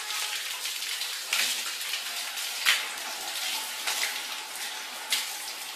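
Hot water sprays steadily from a 24VDC circulation pump (model 50C-2465A) in a powerful flow, making a continuous hissing splash with occasional louder spurts, and no voices.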